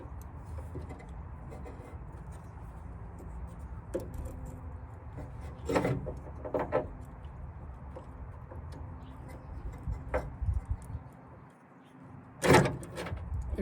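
Prying and rubbing on a Foxbody trunk lid's electrical connector, with scattered plastic clicks, scrapes and a couple of louder knocks over a low background rumble, close by.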